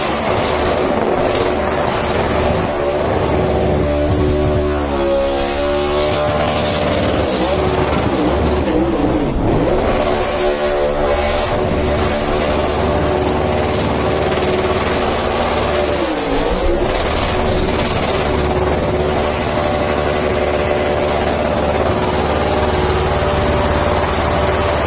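A.J. Allmendinger's NASCAR race car does a victory burnout on Goodyear tires after winning at the Charlotte Roval. The engine roars loud and close without a break, rising and falling in repeated revs over a constant noisy wash.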